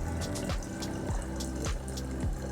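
Tap water from a kitchen sink fills a cup close by in a steady, gurgling stream, with rhythmic pulsing rises as the level climbs.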